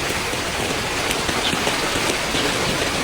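Light rain falls at an outdoor garden during a hydrangea festival, a steady, close, even hiss of drops on surfaces with no talking.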